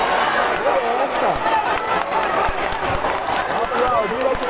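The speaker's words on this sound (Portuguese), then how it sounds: "Aplaudindo aqui na arquibancada." Spectators in the stands at a basketball game applaud in a steady patter of clapping mixed with crowd noise, with talk layered over it throughout.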